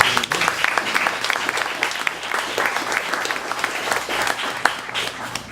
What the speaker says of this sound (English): Would you give her a quick round of applause for that right there?